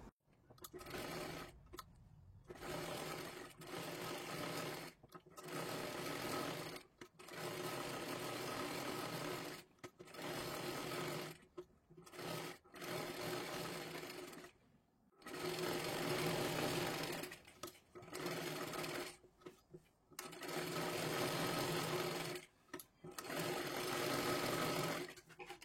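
Up close, a sewing machine stitches a tucked blouse in repeated bursts of fast, steady whirring. Several stitching runs are separated by brief pauses, with no talking over them.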